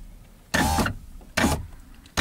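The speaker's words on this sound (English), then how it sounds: "Wind the window down until you see the 10mm bolt clamps" Power window motor on a Mk1 Skoda Fabia driver's door, right-hand drive, with the door open for repair: loud close whirring runs of about a third of a second each, three bursts with short pauses between.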